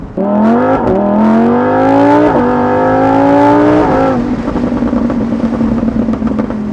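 A Lamborghini Huracan EVO Spyder engine roars loud and close while driving, its pitch climbing through several quick gear changes before settling into a lower, rougher drone.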